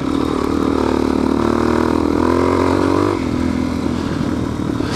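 Dirt bike ridden through sand in New Mexico, a close, loud engine drone rising in pitch as it revs, then easing off to a lower rumble, with no talking.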